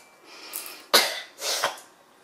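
Two sharp coughs from a person who is a little sick with a runny nose, close and fairly loud with a short gap between them, alone without talk.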